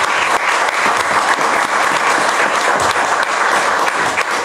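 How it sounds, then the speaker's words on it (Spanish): Audience at a book presentation in Colombia gives the three-person panel a loud, steady round of applause, many hands clapping continuously and close throughout. "Un aplauso para los 3,"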